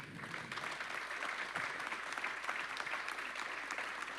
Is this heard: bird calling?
no